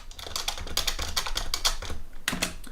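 A command is typed on a computer keyboard for a homemade 32-bit RISC-V CPU, a quick close run of crisp keystrokes with a brief pause near the end and no talking.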